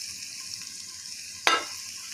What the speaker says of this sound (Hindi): सबसे पहले जो है मैं वो ऑनियन ऐड करता हूँ, उसके बाद कैबेज